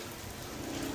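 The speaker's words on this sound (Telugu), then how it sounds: "ఓ పక్క వాన పడుతుంది" Rain falls outside while driving in Los Angeles, a steady faint patter and hiss of drops on surfaces with no talk over it.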